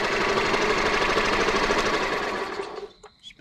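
An old gas golf cart engine cranking over steadily, a loud rapid mechanical chugging that runs for over two seconds, then cuts off, leaving a few faint clunks.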